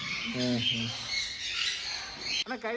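Birds in an aviary squawking in short harmonic bursts, one pair of calls early and another sharp squawk near the end, over a busy background of murmuring voices.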